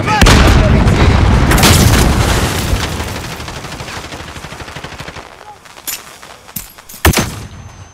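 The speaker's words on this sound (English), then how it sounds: "Grenade up!" A grenade explodes in Call of Duty Modern Warfare multiplayer, a loud booming blast that slowly decays amid rapid gunfire, followed by scattered sharp shots and pops as the fighting continues.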